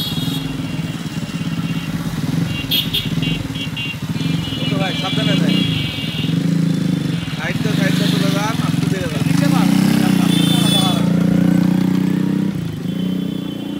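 A Walton 100cc motorcycle converted into a cafe racer idles and revs steadily at close range, its engine drone running under continuous talk throughout.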